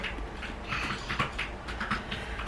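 Soft clicking of keys on a computer keyboard in a quiet room, a light irregular tapping at close range with no one talking.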